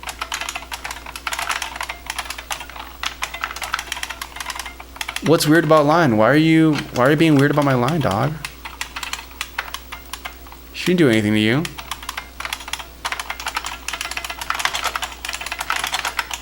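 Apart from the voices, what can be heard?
typing on an IBM Model M computer keyboard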